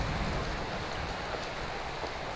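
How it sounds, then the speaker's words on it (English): Steady rainfall in the video game Skyrim, a continuous even hiss of falling rain that fills the whole moment without breaks, with no one talking. "And it's raining."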